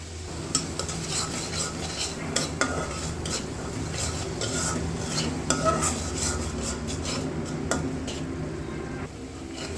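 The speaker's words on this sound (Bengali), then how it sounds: "মশলাটাকে ভালোভাবে কষিয়ে নিতে হবে" A spice masala being stirred and sautéed in a pan while pumpkin curry is cooked with rui fish, with a steady sizzle of frying and repeated sharp scrapes and clinks of a spoon against the pan, close and continuous.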